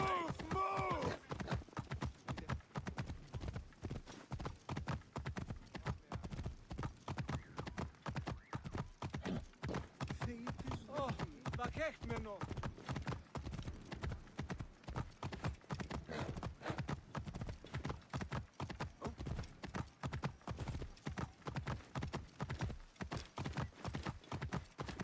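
A horse trots through ancient Egyptian streets in Assassin's Creed Origins with continuous, rhythmic clip-clop hoofbeats. A brief whinny comes near the start.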